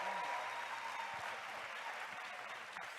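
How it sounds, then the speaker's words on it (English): An audience at a live NAACP National Convention panel claps steadily for the panelists, a dense sustained applause from a crowd filling the whole moment, with a faint voice buried underneath. "Give it up for your panelists real quick."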